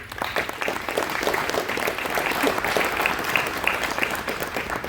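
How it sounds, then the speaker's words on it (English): Graduates at a commencement ceremony give themselves a round of applause, a steady, moderately loud crowd clapping that holds at an even level from start to finish. "Please give yourselves a round of applause."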